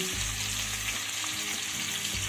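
Diced potatoes, two large ones cut into even cubes, fry in oil with a little salt and turmeric, giving a steady close-up sizzle with a low rumbling undertone and no voices.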